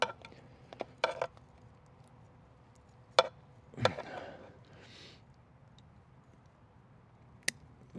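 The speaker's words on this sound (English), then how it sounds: "Cut that top root off." Pruning shears snip the roots of a Taxus bonsai being repotted, giving a few sharp, separate clicks and crunches spaced across a quiet stretch with long gaps between the cuts.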